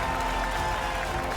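Steady applause from a studio audience cheering the Australian Ninja Warrior 2021 winners, a dense unbroken wash of clapping held at an even level throughout.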